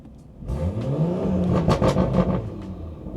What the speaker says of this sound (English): Listen to the turbos